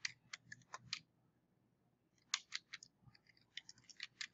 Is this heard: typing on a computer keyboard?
yes